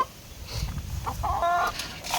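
Chickens fed on corn cluck and chatter close by, several birds overlapping in short irregular bursts with a rooster-like call mixed in.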